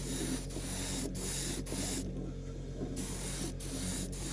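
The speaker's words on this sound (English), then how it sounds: "I know this is boring to watch me literally spray one colour" Steady hissing spray from an acrylic aerosol, close and loud, laying light base-coat passes on a scale model, pausing briefly several times with one longer gap before resuming.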